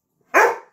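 A Rhodesian Ridgeback dog lets out a single loud, close, sharp bark that tails off quickly, with silence before it and no talk.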